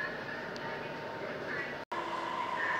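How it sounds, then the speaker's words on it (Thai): A Bangkok MRT Blue Line metro train runs with a steady, broad rumble and hiss from inside the car, one brief dropout midway and a faint whine over the drone. "บรรยากาศของรถไฟฟ้าสายสีน้ำเงินนะครับ"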